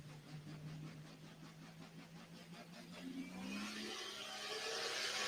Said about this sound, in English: Doug Meisinger, the tractor's name is Scrappy